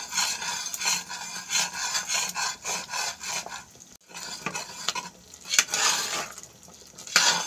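A spoon or spatula scrapes and stirs a thick ube rice cake mixture in a pan over low heat, making a continuous rhythmic rubbing and scraping close by, with no voices.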